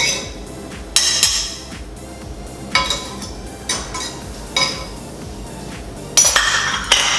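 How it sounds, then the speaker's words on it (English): A utensil stirs vanilla bean into a creme brulee mixture in a bowl, producing a series of irregular clinks and scrapes against the side, close and fairly crisp. "And just give a little stir."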